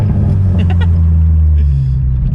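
Mustang EcoBoost with a burble exhaust tune downshifting, a loud close rumbling blip of exhaust note lasting about two seconds, with no talk.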